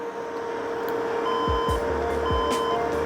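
Desktop computer with no RAM installed sounding a POST beep code, a few short high beeps over a steady hum and fan noise, with low thumps in the background.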